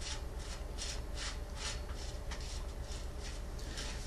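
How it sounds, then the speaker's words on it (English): A three-notch bicycle headset spacer is threaded clockwise by hand, giving faint, rhythmic scraping and rubbing strokes repeated steadily and close up. "So we're ready to install our 3-notch spacer, and we're going clockwise."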